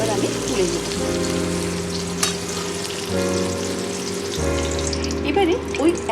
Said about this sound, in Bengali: এবারে ওই একই তেলে একটা টমেটো আমি ভেজে নেব।